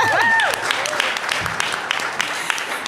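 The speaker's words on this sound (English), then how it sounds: "give yourself a round of applause" Audience at a talk on climate justice and gender equality applauding: dense, steady clapping from a crowd filling the room, loud and continuous, with a voice's rising and falling tones briefly over the start.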